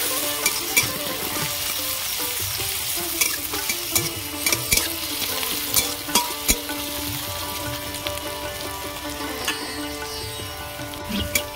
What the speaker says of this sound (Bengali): পেঁয়াজ আর লঙ্কা আমি এইভাবে ভেজে নেব।